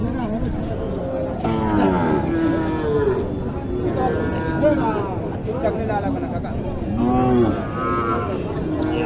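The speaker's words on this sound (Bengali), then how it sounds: "এটি শাহিওয়াল গরুটি শাহিওয়াল" Sahiwal cattle at a busy cattle market in Naogaon low and moo repeatedly in drawn-out, close calls over a steady murmur of crowd chatter.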